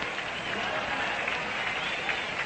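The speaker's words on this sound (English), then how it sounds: "And, of course, the applause follows through." A stadium crowd at Sportsman's Park applauds Stan Musial as he comes up to bat, a steady, dense wash of clapping heard from a distance, even and sustained with no pauses.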